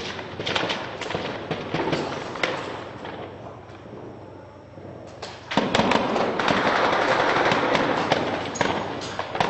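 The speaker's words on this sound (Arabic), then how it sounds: "الجيش الحر يفجر دبابة ثالثة" Several explosions are heard as a tank is blown up in the town of Azaz during wartime fighting, loud booms and bursts with a heavy rumbling roar that swells midway and persists.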